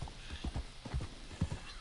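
Horse hooves clip-clop at a steady walking gait during a countryside ride in Red Dead Redemption 2, soft and low thuds repeating evenly at modest volume.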